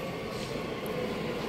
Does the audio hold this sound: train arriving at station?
yes